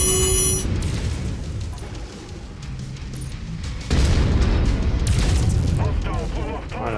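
Mech weapons firing at an enemy mech's leg in the MechWarrior 5 video game, heavy booming blasts with a loud impact burst partway through and mechanical clatter around it, and a voice speaking over it.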